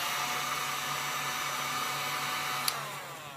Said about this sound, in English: Here's the heat gun.